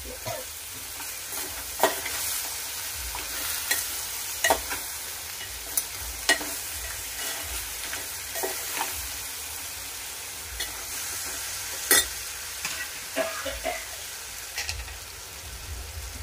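Cleaned crabs stirred into hot frying masala give a steady close sizzle, with intermittent sharp clinks and scrapes of the spoon against the pan throughout.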